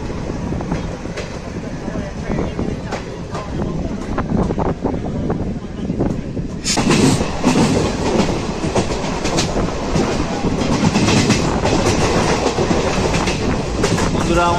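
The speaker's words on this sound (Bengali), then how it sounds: "বন্ধুরা আমাদের ট্রেন এখন পার করছে শক্তিগড় স্টেশন।" The Ganadevta Express runs along the tracks near Shaktigarh station on the Howrah to Rampurhat line, its steady wheel rumble and clickety-clack growing louder and busier midway, with wind buffeting the microphone.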